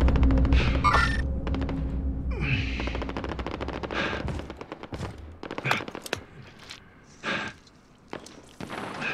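Automatic gunfire in Call of Duty Warzone: a dense burst of rapid machine-gun shots, then scattered single cracks and short volleys, loud and close, with game effects underneath.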